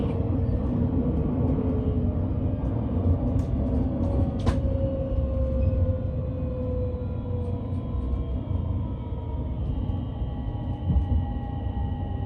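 Rakuraku Yamato commuter express train arriving at Koriyama station, with a steady low rumble of wheels on track throughout, a slowly falling brake whine, and a brief sharp click partway through as the train slows.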